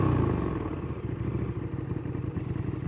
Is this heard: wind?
no